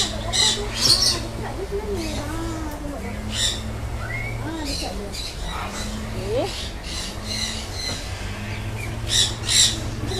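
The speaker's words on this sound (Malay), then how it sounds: "stesen bird aviary kita ada banyak jenis burung" Birds in an aviary at an animal garden squawk repeatedly in harsh, loud bursts over a steady background hum, with chirps scattered between the calls while people talk nearby.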